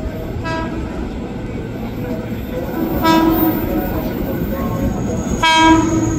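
An electric KRL Commuter Line train, a JR 205, rumbles steadily nearby with a heavy low roar as it arrives at Manggarai station's upper platform, while short horn-like toots sound a few times.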